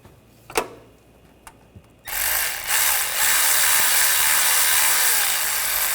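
After a couple of sharp clicks, a ratchet runs continuously and fairly close, snugging down the timing belt cover bolts on a Honda Pilot V6 in a steady, buzzing mechanical rattle.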